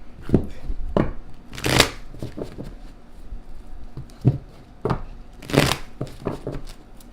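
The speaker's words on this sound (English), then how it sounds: "Having a difficult time shuffling these." A deck of tarot cards is shuffled in repeated quick riffles and slaps, close and fairly loud, with two longer riffling bursts among shorter taps.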